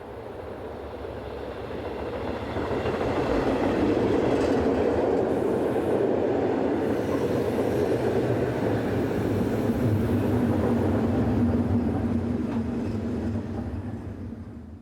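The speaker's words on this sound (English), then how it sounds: "562002 arrives with another local stopping service" Local stopping passenger train 562002 pulling in near Strasbourg in eastern France, a steady rumbling roll with rail clatter that swells in and holds loud for most of the span before easing slightly at the end.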